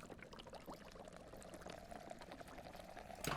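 Water container filling up in the Drive Beyond Horizons driving game, a steady pouring, running stream of water held at an even level for a few seconds, with a brief louder splash near the end.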